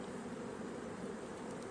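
Honeybees buzz steadily around an open hive during an inspection of brood frames, a dense, continuous drone close by with no voices.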